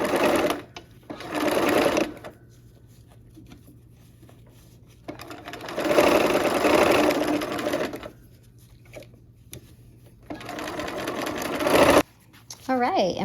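A sewing machine stitches a row of a rainbow quilt with the needle down, running in three sustained bursts separated by quiet pauses, close and fairly loud.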